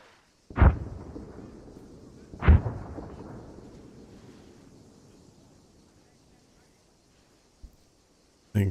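Incoming artillery shells exploding in Arma 3 Antistasi: two heavy, booming blasts a couple of seconds apart, each with a long rumbling decay, then a fainter distant thud and another sharp hit at the end.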